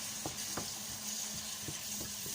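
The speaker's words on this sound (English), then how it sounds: "So you leave it to fry for about 4 to 5 minutes." Peas and sweet corn frying in a pan with a steady close sizzle, broken by a few short scraping stirs of a utensil, no voices.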